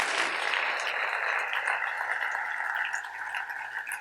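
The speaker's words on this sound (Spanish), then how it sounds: "Denle un aplauso al Señor con todo su corazón" A church congregation claps steadily and continuously, a dense wash of many hands that stays loud throughout and eases off slightly toward the end, with no talking over it.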